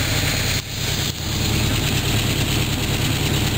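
A 1976 Corvette engine idling with its exhaust pipe reattached, a steady, rough low rumble that dips briefly twice early on, then holds even and loud at close range.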